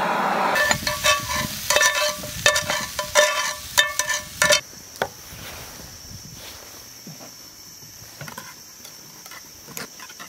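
Sauce reducing to dry in a pan over raised heat for scallops, a busy crackling sizzle with rapid spatula clicks at first, then a quieter, thinner hiss that carries on alone.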